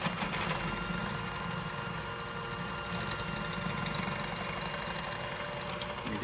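Electric stand mixer creaming chocolate chip cookie dough at medium-high speed, a faint continuous whirring motor hum with a slight rattle, steady and unbroken, no talking.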